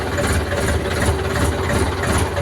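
An Indo Farm 50 horsepower tractor engine idles close by, a loud, even diesel rumble with a faint regular pulsing and no voices.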